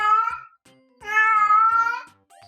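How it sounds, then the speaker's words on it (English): A scared kitten lets out two clear, drawn-out meows, the second longer and stronger, close and loud against an otherwise quiet room with faint taps between. "When a cat meows like this, it means they're feeling really lonely."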